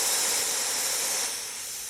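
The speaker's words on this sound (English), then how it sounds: "the first thing I want to do is always wipe off my steam wand. And then again, I'm gonna purge." An espresso machine's steam wand purges with a steady, loud rushing hiss of steam that holds for nearly two seconds before easing slightly toward the end, with no voices.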